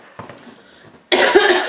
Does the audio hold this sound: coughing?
yes